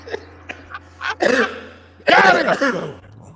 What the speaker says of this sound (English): I'm coughing like I'm 50